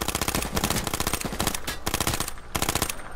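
Assault rifle burst fire in the video game H1Z1, a loud, dense stream of rapid shots in short bursts with brief gaps between them, close and dominant, no voices.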